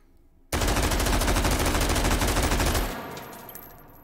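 An AR-18C rifle fitted with a muzzle brake fires in the virtual reality shooter H3VR, loud and close, as a rapid sustained burst of shots lasting over two seconds before stopping and leaving a fading ring.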